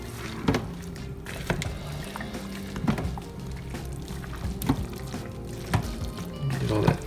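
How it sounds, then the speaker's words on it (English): Tomato sauce, mushrooms and cheese being stirred together in a crock pot for a low-carb keto deep dish pizza, giving wet, squelching scrapes and soft spoon knocks that recur every second or so, close and moderately loud. "And then you just mix it all together. Just stir it up good."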